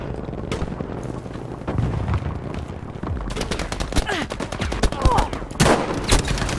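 Dense, loud gunfire in the shooter game Battlefield V, with continuous rapid bursts and booming shots layered over each other throughout, no talk heard.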